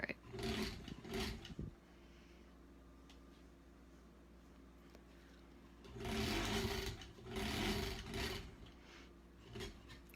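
A sewing machine stitches a quilt block in short bursts, one near, loud run of stitching at the start and several longer runs later, separated by quieter pauses.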